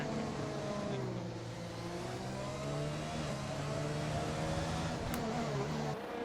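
F1 2020 race cars circle the Monaco street circuit in an esports league race, a steady loud drone of high-revving engines with shifting pitch as cars pass, continuous throughout under faint background commentary.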